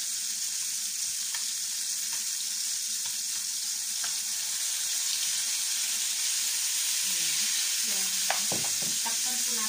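Sea bass fries in a pan with white wine just added, giving a constant bright sizzle with a few soft clinks and stirring sounds near the end.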